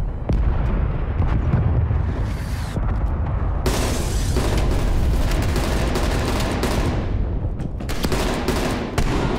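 A cruise missile strike in Call of Duty Black Ops Cold War sets off heavy, booming explosions and crackling blasts. The roar holds loud and continuous, with sharp impacts scattered throughout.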